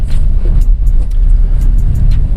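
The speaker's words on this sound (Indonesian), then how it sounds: "Nih suara air sama suara road noise masuk." Continuous low road rumble and tire hum fill the cabin of a 2015 Toyota Agya S TRD automatic, with faint ticks and rattles over the steady drone.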